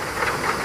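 Train noise from an AI-generated clip, a short, steady engine rumble and hiss, with no voices.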